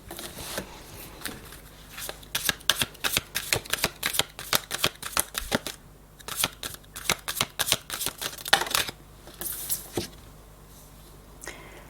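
Deck of cards for a spiritual reading shuffled repeatedly by hand, a rapid run of crisp riffling bursts in clustered rhythm, close and clear.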